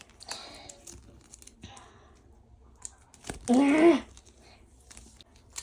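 A sudden loud rip of a paper surprise packet being torn open, lasting about half a second, amid soft rustling and faint vocal sounds.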